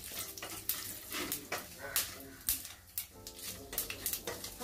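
Two dried red chillies and a whole bay leaf fry in hot oil with a soft sizzle, while a spoon stirs and clinks repeatedly against the pan.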